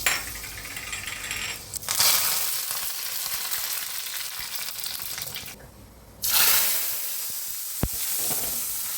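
Mustard seeds and green chillies in hot oil give a loud, steady sizzle and crackle that briefly dips, then returns strongly near the end with one sharp pop.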